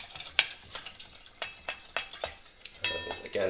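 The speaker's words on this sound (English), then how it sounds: "use some basic oil. And just whisk it up." A whisk rattles briskly in a bowl as oil is beaten into a mustard salad dressing, with quick irregular metallic clicks and scrapes close by and no talking.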